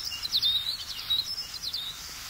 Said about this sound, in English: This is a snow bunting